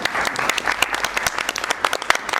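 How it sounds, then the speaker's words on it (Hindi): An audience applauds to welcome a guest onto the stage at an Indian classical music event, a dense, sustained wash of clapping from many hands with a few sharper claps standing out. "तो नीरज जी सबसे पहले आपका स्वागत है तालियों के साथ"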